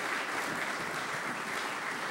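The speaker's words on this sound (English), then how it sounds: "let's have a big round of applause for Cynthia McKinney" Steady applause from an audience greeting a speaker, a dense continuous patter of many hands clapping, fairly soft and even throughout, with no talking over it.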